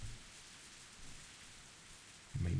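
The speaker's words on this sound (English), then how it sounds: "The sound of rain resumes." Soft, steady rain in the game Hinamizawa Bus Stop, a faint even hiss that is joined near the end by a low, louder rumble.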